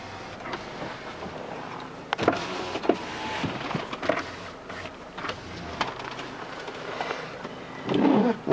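A power sunroof closes on a 2004 Land Rover Freelander TD4 turbo diesel automatic. A steady electric motor whir runs for about eight seconds, broken by several clicks and knocks and ending in a louder thump as the roof seats.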